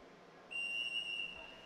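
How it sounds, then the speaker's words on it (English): A referee's whistle starts a match at the ABU Robocon 2025 India preliminary round, one steady, shrill blast of about a second over a soft background hum. "Now with the referee's whistle, the match has been started."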